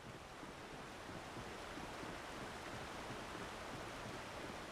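Steady, broadband rushing of a river flowing below in the Alan Wake video game, continuous and even without breaks, faint and distant-sounding like wind-blown water, with no voices.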